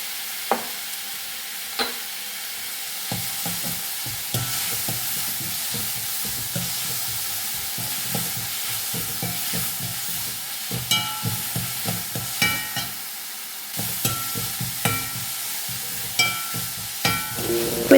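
Okra curry being sautéed in a pan gives off a steady close sizzle, broken by repeated scraping and clacking strokes of a spoon stirring through it, with no voices.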